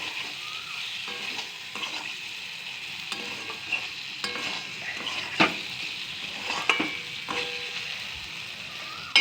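Raw puti fish hit hot oil and sizzle steadily at moderate volume, with scattered clinks and scrapes of a spatula against the pan as they are stirred, no talking.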